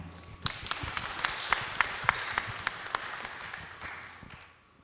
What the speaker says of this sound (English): let's give a warm round of applause to Miss Eileen Faith Lumbatan